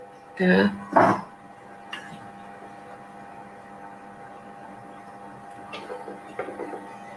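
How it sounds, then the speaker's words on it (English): A sewing machine stitches fabric in a steady, fairly quiet mechanical whir that runs unbroken for several seconds, after a short burst of voice at the start. "And I'm going to sew another time."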